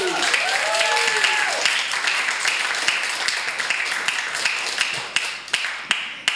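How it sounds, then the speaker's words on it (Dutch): Warm audience applause for poet Marjan de Ridder at a poetry-bus reunion show in Rotterdam, a dense clapping that swells after a brief voice, then thins into scattered single claps near the end. "Dus ik wil graag een heel lief, fijn en warm applaus voor Marjan de Ridder."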